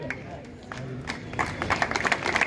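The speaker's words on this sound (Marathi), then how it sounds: "जोरदार टाळ्या वाजवा" Applause for a village sarpanch at an award ceremony in Satara: a crowd's clapping builds from a scattered patter into a dense, steady ovation, with a voice faintly audible underneath.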